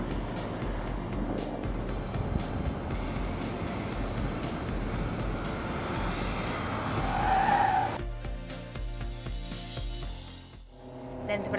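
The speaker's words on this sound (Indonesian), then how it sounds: "Ini Alessandra akan menguji pengereman Fiat 500S" Fiat 500S under a hard braking test on a track, tires skidding and squealing over loud engine and road noise, with a sharper squeal near the end before the car settles.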